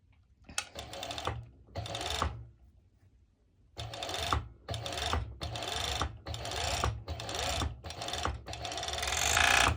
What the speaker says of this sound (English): my overlocker, my serger, and what I'm going to do now, I'm going to go over it and over my stitch